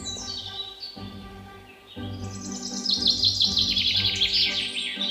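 Cartoon bird chirping, rapid high tweets that grow busier and louder in the second half over a soft low background bed.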